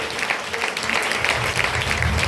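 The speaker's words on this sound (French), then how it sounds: "On applaudit très fort." Congregation at a prayer and teaching day applauds loudly, a thick continuous wash of clapping with faint voices mixed underneath.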